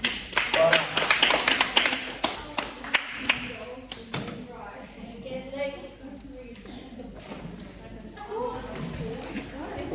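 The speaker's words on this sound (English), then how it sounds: "give yourselves a round of applause" Scattered audience claps at a live goal-setting session, a burst of loud separate claps for the first few seconds that thin out as a person starts talking over the room.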